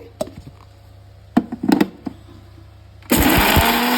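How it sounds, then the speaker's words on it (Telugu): A few knocks and clatters, then a mixer grinder starts up abruptly and runs loudly with a harsh, steady whir, grinding salted ingredients for gongura chutney. "మిక్సీ పట్టుకోవాలండి"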